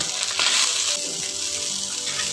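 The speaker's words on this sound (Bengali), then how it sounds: "এবারে আমি এটাকে কষিয়ে নেব" Ground spices such as turmeric, garam masala, coriander and black pepper sauté in a hot pan for fish kachori filling, giving a close, steady sizzling hiss throughout with no talking.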